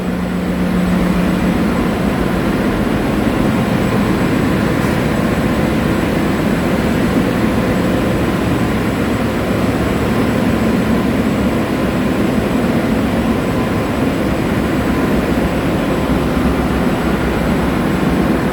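Loud, steady roar of machinery running in a large ship's engine room, dense and continuous with a deep low hum and a constant broadband wash, no pauses throughout.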